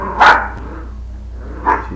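Two sharp dog barks sound close and loud, spaced well over a second apart, over a low steady background hum.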